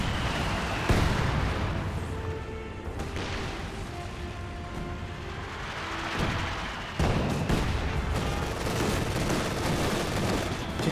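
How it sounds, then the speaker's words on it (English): Incendiary artillery barrage in Company of Heroes 2, a steady roar of booming impacts and crackling fire, with sharp loud bursts near the start and again about two-thirds through. "Incendiary barrage now firing away"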